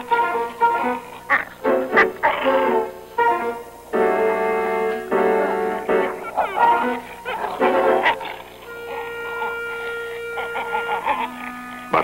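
Wolf pups in the Arctic yip, whimper and growl in playful mock ferocity, close and fairly loud, in irregular bursts with brief pauses over about twelve seconds.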